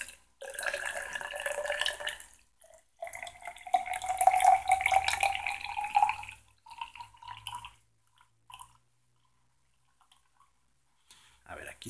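Distilled water pours into a graduated cylinder in bursts, a rising trickling stream that stops and restarts, with a person talking over and between the pours.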